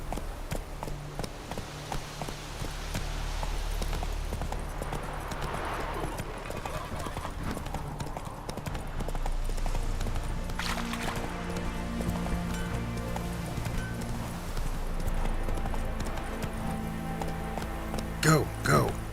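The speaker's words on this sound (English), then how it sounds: "Whoa there, Roach." Horse hooves clip-clopping in The Witcher 3: Wild Hunt, a steady rhythmic trot running throughout at moderate level under game music and ambience, with a voice speaking over it.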